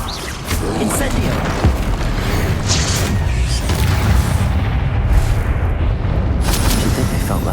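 The Incendio fire spell in the game Hogwarts Legacy: a loud booming blast followed by a sustained roar of rumbling bursts, in near-constant heavy game noise.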